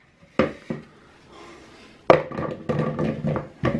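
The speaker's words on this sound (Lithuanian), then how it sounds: "Viską metam dabar į puodą." Chunks of chicken, mushrooms and potatoes are tipped into a cooking pot in bursts of thuds and clattering, a couple of sharp drops first, then a quieter pause and a longer run of tumbling pieces.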